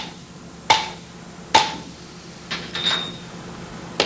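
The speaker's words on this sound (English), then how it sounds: "he crimps the ends with a hammer and punch" A hammer strikes a punch to crimp the ends of a Chop-Rite grinder basket, giving sharp metallic taps spaced apart, four or five distinct hits over a quiet shop background.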